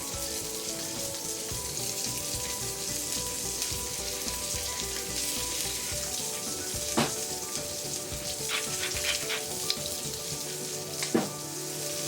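Poultry browns in a hot frying pan, giving a steady, dense sizzle with a few sharper pops and stirring clicks, close and continuous with no talking.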